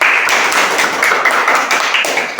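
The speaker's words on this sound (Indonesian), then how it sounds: "Iya, berikan tepuk tangan" A class of pupils claps their hands close by, a loud burst of quick, uneven clapping lasting a couple of seconds.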